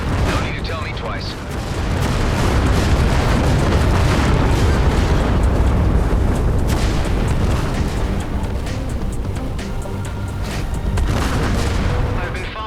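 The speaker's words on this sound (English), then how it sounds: "Vacate this area at once. Explosion imminent." Explosion in the space shooter Everspace 2, a heavy rumbling boom that swells and rolls on for several seconds with crackling debris, loud and close, with a voice speaking over it.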